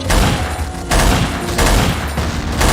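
Dense gunfire in an online shooter video game, with rapid overlapping shots and bursts that swell in loud waves, close and continuous, with no talking.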